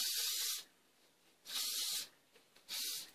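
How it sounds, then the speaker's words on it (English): Hairspray is sprayed at the hair roots in three short hissing bursts, each roughly half a second long, with quiet gaps between them and no talking. "if I spray it, lift my hair and just spray a little in"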